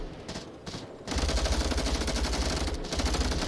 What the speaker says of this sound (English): Gunshots being fired here and there everywhere.